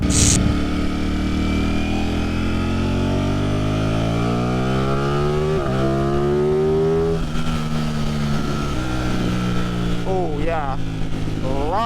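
A Ducati Panigale V2 motorcycle riding past, its engine note loud and close, rising and falling in pitch as it accelerates and passes, continuous over the whole stretch.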